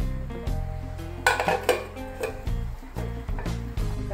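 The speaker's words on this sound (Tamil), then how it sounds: "இப்போ இதை ஒரு பிளேட் போட்டு மூடி வச்சுருவோம்" Plate set over kozhukattai dough in a kitchen. Close ceramic and metal clinks and scrapes come in several irregular bursts over a low steady hum, with no talking.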